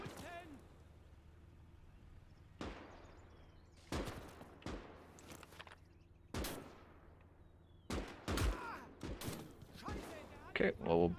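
Gunfire in the Gates of Hell: Ostfront game on the Eastern Front, with sharp, separate rifle and machine-gun shots cracking at irregular intervals over a low rumble and occasional quiet voices.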